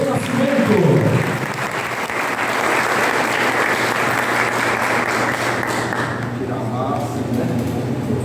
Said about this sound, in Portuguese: uma salva de palmas, professor Cícero Pinto do Nascimento.